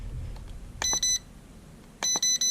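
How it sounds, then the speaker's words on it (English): A NEHEME NH330 mini drone transmitter beeps in short tonal bursts: two quick beeps, a pause, then three evenly spaced beeps, clear and close against a quiet background. "So you hear the 3 beeps there."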